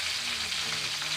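Brinjal curry fries in a pan with a steady, close sizzle and soft crackle running evenly through the whole short stretch, with no voices.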